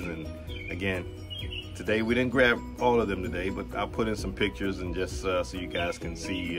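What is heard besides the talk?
backyard birds chirping, cardinals and blue jays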